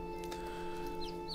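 A chicken clucks in the survival game Niffelheim, a few quiet clucks and chirps over a steady droning game music bed.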